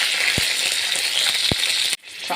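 Curry leaves and green chillies sizzle steadily in hot oil, a close, loud hiss with a couple of soft knocks, then the frying cuts off abruptly near the end.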